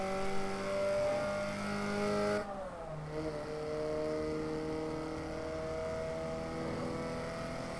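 A 1972 Volvo 1800E in Forza Horizon 3 accelerates with a rising engine whine. The drone breaks off briefly for a gear shift, then climbs again at a steady moderate level.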